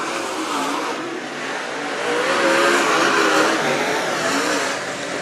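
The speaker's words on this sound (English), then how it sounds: "They'll go wheel to wheel down the back straightaway with Hoogerheide." Race cars roaring together down the back straightaway at Mt. Pleasant, a loud continuous engine wash that swells and fades slightly as the pack passes, with no talk over it.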